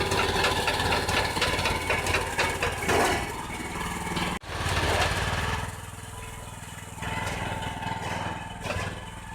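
Metal roofing forming machine running at a work site, rolling standing seam panels for horizontal siding on an ICF house: a steady loud mechanical drone and clatter that dips briefly midway, then continues.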